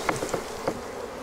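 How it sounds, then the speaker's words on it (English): Honeybees buzz on a brood frame being shaken off during a hive split. A close, steady hum is broken by a few quick soft knocks, with no speech. "Shake all the bees off."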